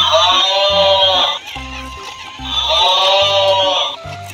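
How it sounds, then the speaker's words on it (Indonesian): A toy cow plays a synthesized animal call twice, each a long electronic bleating moo with a beeping tone underneath, separated by a short pause. "Ini sapi betina."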